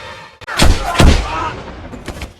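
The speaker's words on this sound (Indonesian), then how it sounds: "Namun tak disangka Brian datang menyelamatkan Kim dengan langsung menembak si penjahat" Gunshots in the action film Taken 2 fire as two loud, booming blasts about half a second apart, followed by a fainter echoing pop and a fading rumble.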